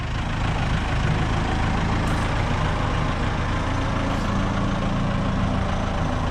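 A Caterpillar D10T dozer's heavy diesel engine runs steadily as the machine drives backwards during a track installation, a loud, continuous low rumble with broadband mechanical roar and no pauses.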